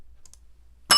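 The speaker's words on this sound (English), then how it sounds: "I was about to ring my bell." A bell is struck once near the end, a sudden bright metallic clang after near silence, close and fairly loud.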